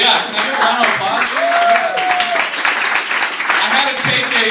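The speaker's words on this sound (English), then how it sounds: "Can I get a round of applause?" Audience applause at a stand-up comedy show, a loud sustained round of clapping with some cheering, and a voice briefly audible over it.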